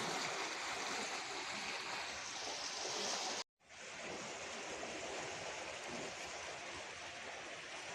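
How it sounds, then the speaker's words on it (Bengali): A steady, even rush of flooded Barak River water surging against railway bridge pillars, heard from the bridge, broad and continuous, with one brief dropout midway. "এই সেতুর পিলারে কিভাবে জল ধাক্কা দিচ্ছে এবং তা থেকে উৎপন্ন আওয়াজ শুনতে পাচ্ছেন"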